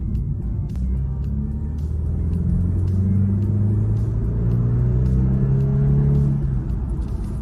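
A 2024 BMW 2 Series car accelerates with a low, steady engine rumble and a gradually rising tone heard from inside the cabin, continuous and moderately loud throughout.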